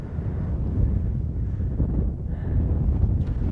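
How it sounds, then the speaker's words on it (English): Strong, cold wind buffets the microphone on the exposed Knife Edge ridge in Maine, a loud low rumble that gusts and surges without pause. "This wind is crazy and it's so cold."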